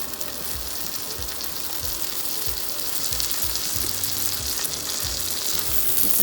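Dabeli buns frying on a hot pan, a steady loud sizzle with repeated low scraping and stirring knocks throughout, no talking.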